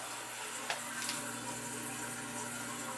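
Water overflowing from a clogged household drain runs and splashes steadily, a constant low wash with a couple of faint knocks, moderately close and without voices.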